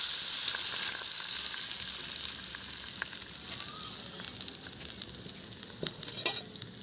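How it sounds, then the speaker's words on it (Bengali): Hot oil with chili is poured over mashed seeded banana, giving a steady close sizzle and crackle that fades gradually over several seconds, with no talking. "এবার গরম গরম তেলটা আমি কলাতে ঢেলে"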